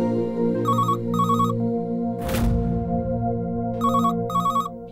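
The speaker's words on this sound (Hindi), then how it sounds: "आज के जमाने में लैंडलाइन पर कौन फोन करता है?" A landline telephone rings in two double-trill bursts, pauses through a sudden whoosh, then rings twice more over a sustained musical drone.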